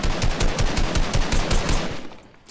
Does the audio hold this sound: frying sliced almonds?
no